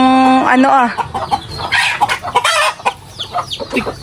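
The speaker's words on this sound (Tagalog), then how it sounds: "Malayo po yung kay Papang hinahabol na manok." Native hens squawk and cluck in agitated bursts up close as they are chased and caught, one crowing-like call at the start, with people talking over the commotion.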